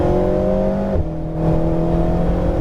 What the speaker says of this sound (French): on regarde au bout de la ligne droite, on accélère à fond.